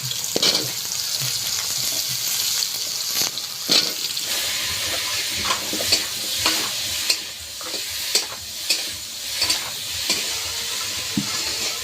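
Vegetables, including pumpkin and potato, frying in oil with a spoonful of five-spice seeds, giving a loud continuous sizzle broken by scraping stirs that grow more regular in the second half, close up with no talking.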